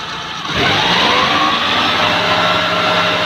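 Maruti 800 car engine, checked for a silencer fault, catches after a brief quiet moment and revs up into a loud, close, sustained droning hum with a rising whine, steady for the rest of the clip.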